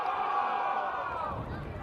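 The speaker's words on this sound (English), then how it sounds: "Crowd roaring about something." A football crowd at a country league senior grand final roars in a broad sustained swell, while a commentator talks over it.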